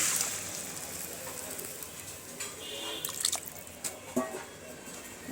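Water poured into a spice masala in a cooking pot, a soft steady trickle and light splashing with a few brief drips and clinks near the end, close and fairly quiet with no talk.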